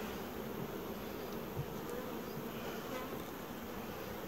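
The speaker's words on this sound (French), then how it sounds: "Il y a pas mal d'abeilles." A steady, dense buzzing of many honeybees close by as a swarm is gathered onto frames, continuous and even in loudness throughout, with no voices.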